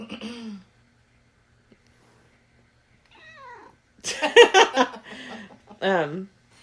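A domestic cat meows a few times, short close vocal calls with gaps of silence between them, indoors and fairly clear.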